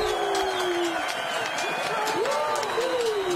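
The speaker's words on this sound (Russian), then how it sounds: "Аплодисменты нашим бойцам!" Crowd applause and cheering for armored fighters at a Battle of the Nations 30-vs-30 medieval combat final, a steady wash of distant clapping beneath loud talk and shouting voices.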